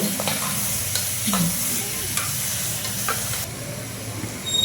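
Chicken pieces fry in a pot for biryani, a continuous close sizzle broken by scraping clatters as they are stirred.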